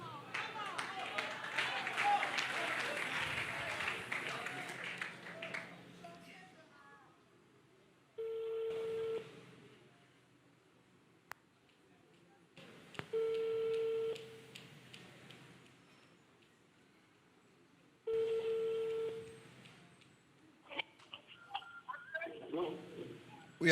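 A telephone line rings out for a call-in on a church broadcast, steady electronic tones sounding three times at even intervals after a stretch of background voices and noise.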